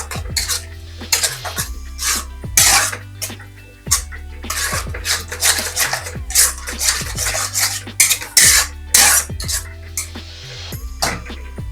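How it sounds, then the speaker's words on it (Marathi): Eggs and coriander are stirred together in a pan for dhaba-style egg bhurji, giving repeated scraping and clinking strokes over a steady low hum, close and fairly loud. "आता यात ऍड करूया आपण अंडी, कोथिंबीर, मिक्स करून घ्यायचं।"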